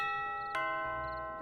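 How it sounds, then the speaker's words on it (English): A modern electronic bell mounted on a gate rings once with a clear ding-dong chime, its bright tones sustaining and slowly fading, close and alone with no talking. "rings the surprisingly modern-looking bell on the gate"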